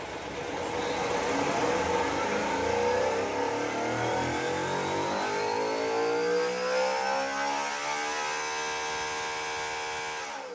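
A Chevrolet small-block Gen V LT engine fitted with Jesel rockers, PSI 1513 ML valve springs and Johnson lifters revs steadily upward, its loud mechanical whine climbing in pitch to very high RPM over about ten seconds.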